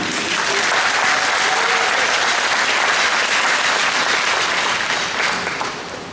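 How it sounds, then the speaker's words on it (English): A large crowd at a Tahitian solo dance competition applauds loudly and continuously, a thick wall of clapping that stays strong for several seconds before tapering off at the end. "A big round of applause for Auntie Lucy Mapu."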